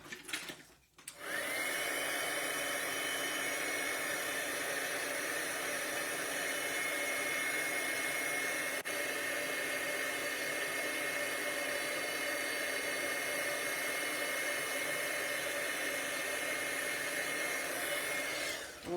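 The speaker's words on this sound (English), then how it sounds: "So once again, we'll bring back in our heat tool." Embossing heat tool blows hot air over card stock in a steady, loud, close whirring hiss that starts after a second and runs unbroken for the rest of the clip, then cuts off at the end.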